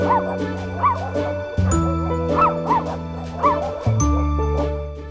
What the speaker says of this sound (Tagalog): Kasama ang aso kong si Cusco, kukumustahin namin ang lagay ng mga rescued na aso at pusa.